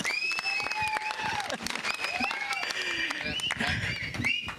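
An audience at the Godse film trailer launch event claps in a dense, sustained burst of applause, loud and close, with crowd noise and voices mixed in.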